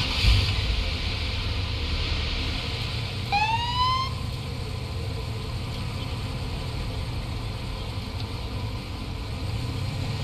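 A police car in Police Simulator: Patrol Officers gives one short rising siren whoop over a steady idling engine hum. The rest of the time only the engine drones, with no talking.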